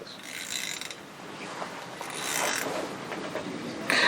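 A part is screwed by hand onto a one-sticking stick, giving a steady ratcheting, grinding mechanical whir with rising and falling intensity and a sharper scrape near the end, close up and without talk.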